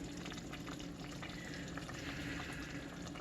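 A pot of potato soup at a rolling boil, steady close bubbling and hissing that continues without pause.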